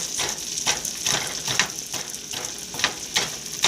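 Food sizzling in a frying pan on a stovetop, a steady close hiss with rhythmic scraping strokes roughly every half second as it is stirred, no talking.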